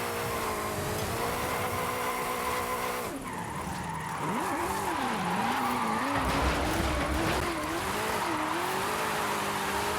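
A 2015 Mustang GT drifts in Forza Horizon 5, its engine droning and revving in wavering swoops while tires squeal through a slide. The sound is loud and continuous, with no voices over it.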